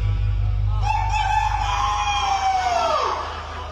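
A person imitates a rooster crowing, a single drawn-out cock-a-doodle-doo rising and then falling off, loud and close over a low background hum.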